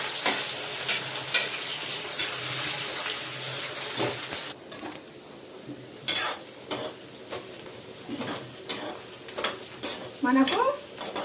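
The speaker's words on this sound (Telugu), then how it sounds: "ఆనియన్ ముక్కలు అనేది ఆయిల్ వేసి బాగా బ్రౌన్ కలర్ వచ్చేంత వరకు ఫ్రై చేయాలి." Onion pieces fry in oil for a chicken salan with a steady close sizzle, while a spoon scrapes and stirs the pan in irregular knocks and clinks.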